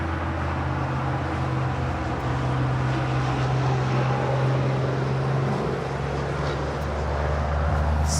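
A British Airways airliner taxis at Los Angeles International Airport, a steady low engine drone with a constant tonal hum, continuous and fairly distant, no talking.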